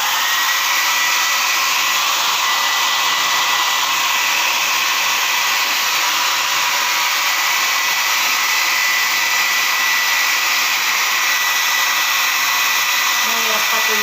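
Hair dryer blowing steadily to dry a dog's thick fur after a bath, a loud, constant whooshing roar that holds unchanged throughout with no pauses or talk over it.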